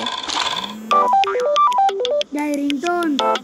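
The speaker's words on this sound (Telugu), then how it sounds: "ring tone" A phone ringtone plays a quick stepping melody of bright electronic tones, loud and close, for about three seconds during a game among players.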